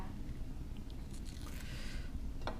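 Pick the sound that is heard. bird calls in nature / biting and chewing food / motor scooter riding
biting and chewing food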